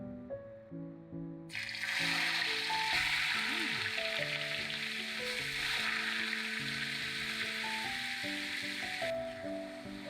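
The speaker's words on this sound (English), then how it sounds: "Now in this we'll fry our onion and our sarpatel masala." Onion and sarpatel masala frying in rendered pork fat for Goan pork sorpotel, a steady loud sizzle that starts after a quieter opening and continues throughout, with soft background music.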